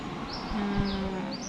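A single cow gives a short, fairly clear moo during an Eid al-Adha sacrifice gathering, with faint outdoor background noise and no speech.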